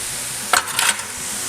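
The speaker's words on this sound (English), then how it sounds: "So we're gonna let this sear down for a little bit" Cajun trinity vegetables searing in avocado oil for a low-carb keto jambalaya: a brief, close sizzle with a couple of quick stirring swishes over a steady frying hiss.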